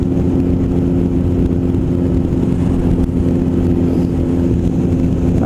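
A 2008 Suzuki Bandit 1250S motorcycle with an aftermarket exhaust rumbles steadily and loud, a deep continuous engine roar with a low throbbing idle tone and no speech.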